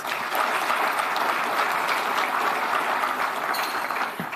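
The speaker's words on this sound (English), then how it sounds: "please give yourself a round of applause for that" A nearly full room at the launch of a housing developer incubator gives a sustained round of applause. The clapping stays dense and even, with no voices on top.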